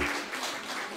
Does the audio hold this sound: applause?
yes